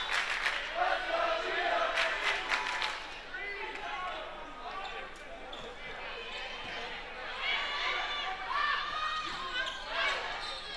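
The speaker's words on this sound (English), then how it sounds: "Crowd getting into it once again" A volleyball crowd in a gym cheering and shouting steadily, a lively roar with a play-by-play commentator speaking over it.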